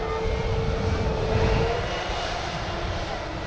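A Lufthansa airliner takes off at Manchester Airport, its jet engines producing a loud, broad roar that swells and then slowly fades as it climbs away.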